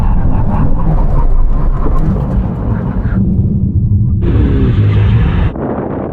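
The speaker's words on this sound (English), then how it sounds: "Brake test from 100 miles an hour" Ferrari 296 GTB, McLaren 765LT and Porsche GT2 RS braking hard from 100 mph in an emergency stop, heavy wind and engine rumble fading as the cars slow, loud and close with wind buffeting the microphone.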